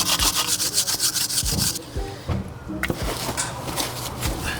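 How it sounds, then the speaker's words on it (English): Car brake components being scrubbed with a brush, rapid rhythmic rasping strokes close up, pausing briefly midway before resuming, with faint talk in the background. "Just take 2 seconds, give it a bit of a scrub, make sure nothing's sticking."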